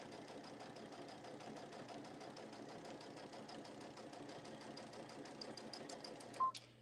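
A home sewing machine runs quietly and steadily in a soft repeating needle rhythm, fairly distant and faint, ending with a brief clunk.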